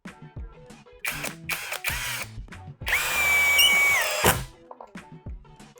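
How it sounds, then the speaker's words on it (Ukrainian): A power screwdriver with an S2 steel bit drives a self-tapping screw, whirring in several short bursts and then one longer strained run with a high whine before stopping, plus clicks and handling noise between. "пробуємо, як вона себе поведе в момент прокручування біти у головці саморізу."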